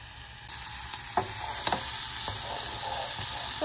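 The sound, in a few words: bean stew with mushrooms sizzling in pot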